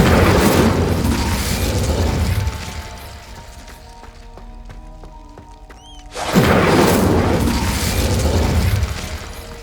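The Incendio fire spell in the video game Hogwarts Legacy bursts as a loud roaring blast, fades into quieter mechanical clinks and tones, then a second roaring fiery blast follows, with no talking.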